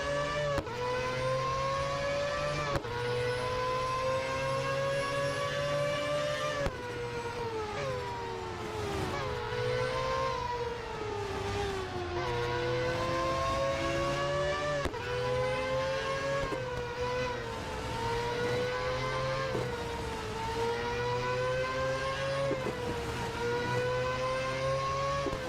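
Mazda 787B race car's rotary engine howling through rising and falling gear changes during a two-lap Grand Prix circuit race in the Real Racing 3 video game, a loud, continuous, close engine note with repeated upshifts, no talking.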